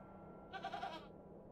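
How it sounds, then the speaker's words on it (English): A goat in the adventure game The Excavation of Hob's Barrows gives one short, wavering bleat that stands out clearly over a quiet background hum. "I'm not fond of goats at the best of times, but this one seems particularly disagreeable"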